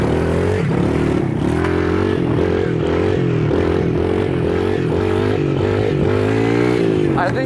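Motorcycle engine revving hard and holding a high, shifting pitch through a long wheelie, loud and close with wavering throttle and some clatter underneath.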